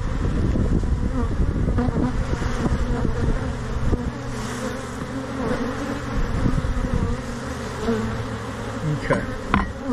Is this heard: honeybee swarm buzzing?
yes